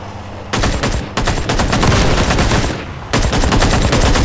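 Loud, close bursts of rapid automatic gunfire in Ring of Elysium, with sharp shots fired in long strings broken by brief pauses.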